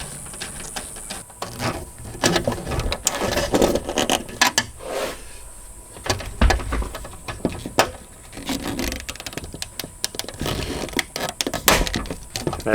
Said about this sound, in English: So I went ahead and screwed it down with my little torque screwdriver.